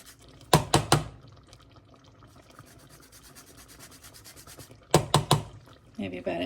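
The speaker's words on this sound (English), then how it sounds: "grate a little nutmeg in there." Nutmeg is grated in a home kitchen in a few quick scraping strokes, two short bursts of rasping rubs separated by quieter background noise, close to the mic.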